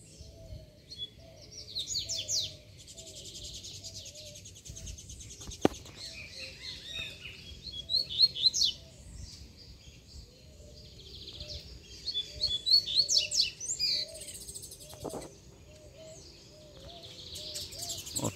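A male and a female songbird chirping among branches, with repeated bursts of high, quick trills and tweets coming in clusters, fairly close and clear over a quiet background, with a few sharp knocks between phrases.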